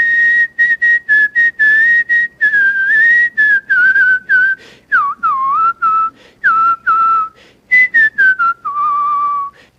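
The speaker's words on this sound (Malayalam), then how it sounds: "നിരവധി ഗാനങ്ങൾ ചൂളം വിളിയിലൂടെ യൂട്യൂബ് പേജിലും മറ്റു വേദികളിലും പാടിക്കഴിഞ്ഞു" A man whistles a song melody, loud and close, in clear sliding notes broken into quick phrases with short gaps, the whistled tune standing alone without accompaniment.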